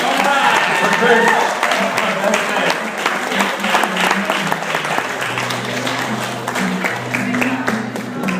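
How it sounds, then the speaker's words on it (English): Wedding guests applaud after the best man's toast, a sustained round of clapping from a room full of people, with speech and background music running beneath it. "Have another round of applause"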